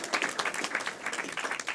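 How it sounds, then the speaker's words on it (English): A live game-show audience claps together in a steady, dense patter of hand claps. The sound is moderately quiet and fairly far off, with no talking over it. "Clap for yourselves, everyone."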